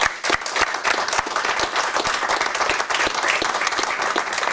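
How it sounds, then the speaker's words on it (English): A crowd at a sports awards presentation gives a big round of clapping, with dense, lively handclaps and some louder individual claps close by, holding steady for several seconds. "So that guy, big clap,"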